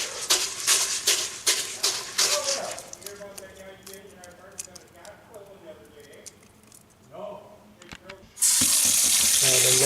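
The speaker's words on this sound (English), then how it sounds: "Add another liter of water." Water is poured into an air still for making essential oils, a bright rushing stream starting abruptly near the end and running loud and steady, after earlier bursts of tap-like splashing under a person's talk.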